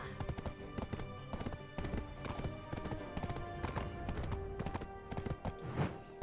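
Horse hooves clatter in a fast, steady clip-clop rhythm in the online game Black Desert Online, continuous and fairly close throughout.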